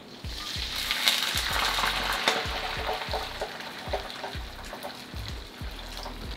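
Hot water poured into a pot of chiles, a continuous splashing and trickling wash with a faint sizzle and soft repeated low knocks, fairly quiet and without speech.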